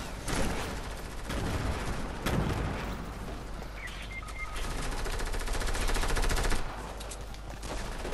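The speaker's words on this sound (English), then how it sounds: "now all the shooting happens" Rapid automatic gunfire in a Fortnite match, with sustained bursts of overlapping shots that rattle on almost continuously, loud and close, with a few heavier blasts mixed in and no pauses.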